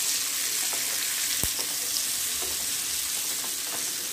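Stuffed green chillies (bharwa mirch) sizzle steadily in a pan of hot oil, a constant hissing fry with a few faint stirring clicks and one sharp knock of a spatula.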